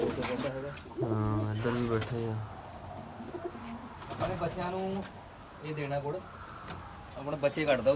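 Pigeons coo in low, throaty bursts close by, repeating in several rounds, with people talking intermittently in between.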